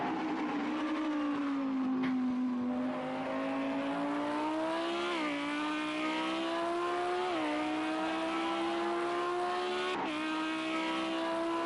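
Audi race car engine in a racing video game, a loud continuous drone that climbs through rising revs, dropping briefly at each gear shift and climbing again.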